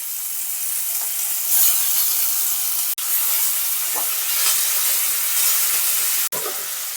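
Chopped onion, ginger, garlic and diced tomato fry with whole cumin seeds in hot oil for a moong dal with fish head, giving a steady close sizzle with soft stirring scrapes and two brief cutoffs.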